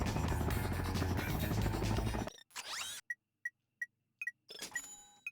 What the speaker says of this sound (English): just destroying these breakables again to get a lot of bolts